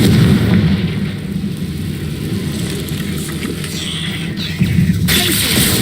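A Confringo fire spell explodes in Hogwarts Legacy inside a cave, heard as a heavy, rumbling blast with a sustained roar and a fresh burst near the end.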